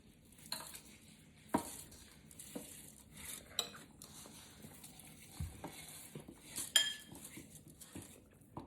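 Washed rice being added to a rice cooker pot, with soft clinks, scrapes and pouring rustles in irregular bursts, close but quiet, no talking.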